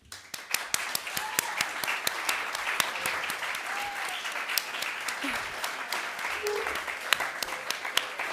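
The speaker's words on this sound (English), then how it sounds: "give you a big round of very well-deserved applause" Audience applause at a European Press Prize shortlist announcement, steady and fairly soft with sharp individual claps standing out from the crowd, and a few voices underneath.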